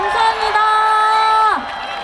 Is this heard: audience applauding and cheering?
yes